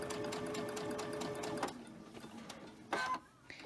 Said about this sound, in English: this bump is going to be a lot for some sewing machines to go across